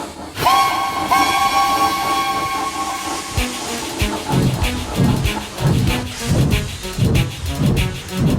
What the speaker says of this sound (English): James was soon making good time as he steamed along the line.